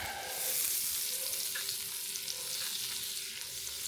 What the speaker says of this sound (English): 4 tablespoons of butter and let it melt in there.